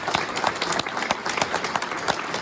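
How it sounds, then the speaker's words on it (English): Applause from a conference keynote audience, a moderately quiet patter of scattered hand claps at a fairly even pace, heard alone without speech. "give Dawn a round of applause"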